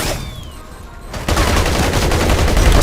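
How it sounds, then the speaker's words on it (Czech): Gunfire in the video game Battlefield Heroes erupts midway as a loud, dense burst of rapid shots after a quieter stretch of game noise. "už nás někdo střílí"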